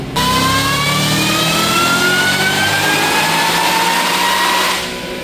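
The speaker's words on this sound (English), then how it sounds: "And here's another pull with the Solar Performance ported throttle bodies." Roush supercharged car engine on a dyno fitted with Solar Performance ported throttle bodies, revving hard in one sustained pull with a steadily rising whine, loud and close, then cutting off near the end.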